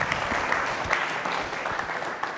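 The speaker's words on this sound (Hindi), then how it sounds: "तालियां जोरों से बजाइए।" Hall full of people at a Mahaveer Digambar Jain School quiz show on Lord Mahaveer, clapping hard in a dense, continuous burst with no voice over it.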